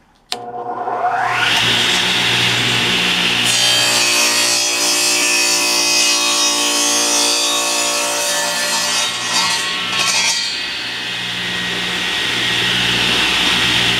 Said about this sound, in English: table saw, and I've already cut one side of the piece of wood, and now we're going to set it up, flip it over